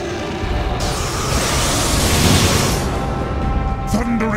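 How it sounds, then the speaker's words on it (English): Ice Dragon Breath attack in the video game Atelier Iris 3: Grand Phantasm, a loud, sustained roaring whoosh of broadband noise that builds and holds for several seconds, with a voice shouting briefly over it. "Ice Dragon Breath!"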